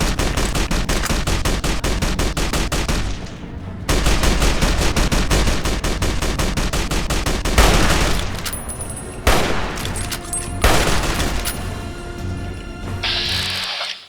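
Rapid automatic gunfire in a Fallout: New Vegas battle at Hoover Dam, with long loud sustained bursts of machine-gun fire, short pauses between them, and further shots and crackling impacts layered in.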